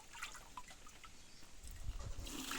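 A liquid organic fertilizer mixture made with buttermilk from a desi cow is poured through a strainer into a drum, a soft trickling and dribbling that grows louder and fuller toward the end.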